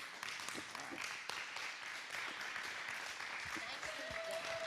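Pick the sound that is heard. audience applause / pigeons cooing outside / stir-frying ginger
audience applause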